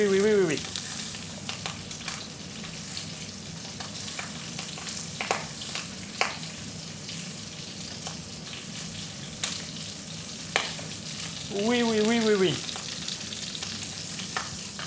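Duck confit and Sarladaise potatoes sizzle and crackle steadily in a pan, with occasional stirring scrapes and a voice speaking briefly at the start and again near the end.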